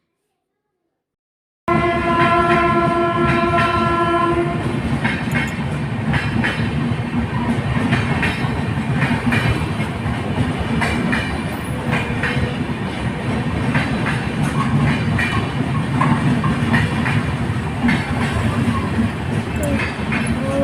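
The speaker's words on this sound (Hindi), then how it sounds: "ଏଇଠି ମାନେ ଟ୍ରେନ୍ ବି ଏତେ ମାନେ ଆୱାଜ ହୁଏ ଯେ କୁହନ୍ତୁନି" A train rolls past close by, a loud, steady rumble with rhythmic wheel clatter lasting throughout, opening with sustained tonal notes from the train.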